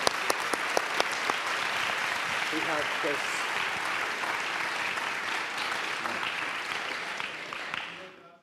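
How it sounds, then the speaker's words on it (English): A room full of people applauds to thank a university chancellor at an equity and inclusion event, starting with a few sharp claps then swelling into steady applause that fades away; brief talk is heard within it. "If folks can join me in thanking the Chancellor for this moment and a round of applause"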